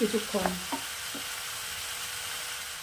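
Pumpkin and dried shrimp cook in a pan over a low flame, giving a soft, steady sizzle after a few quick clinks of stirring at the start.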